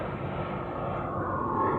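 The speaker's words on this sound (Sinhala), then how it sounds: "ප්ලේන් එකක් යනවා සද්ද ඇහෙනවා ඇති කියලා හිතනවා." A fixed-wing airplane drones steadily overhead, fairly faint and distant, with an even, sustained roar and no other sounds standing out.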